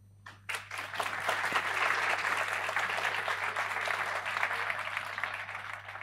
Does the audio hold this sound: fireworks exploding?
no